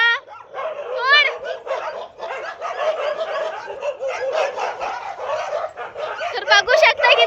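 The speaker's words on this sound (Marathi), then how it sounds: "पाहतो तर इकडे पाहतो तिकडे झगडा होत आहे कुत्र्यांच्या." Several dogs fighting on a street, with loud, close, overlapping barks, yips, snarls and whimpers in continuous frantic bursts, while people talk alongside.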